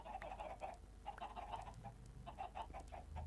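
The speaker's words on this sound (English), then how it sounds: "We have one chicken here." Chickens clucking in Minecraft, several short rhythmic bursts of clucks in quick groups, faint and close, with no talking.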